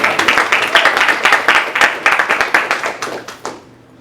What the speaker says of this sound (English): a round of applause for all the winners and all the projects this year